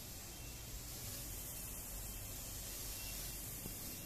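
A sprayer misting fertilizer onto tree leaves in a garden, producing a continuous, even hiss of spray that holds steady throughout at moderate volume, with no talking.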